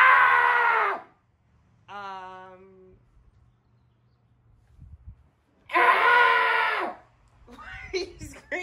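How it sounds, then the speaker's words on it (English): A person screams loudly in two long bursts with a short vocal sound between them, followed by quieter talk and noises at the end. "Why are you screaming into it?"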